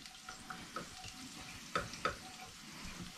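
Garlic, chili flakes and salt sizzle in oil in a frying pan, a soft steady hiss with a few sharp clicks of stirring against the pan, close and fairly quiet.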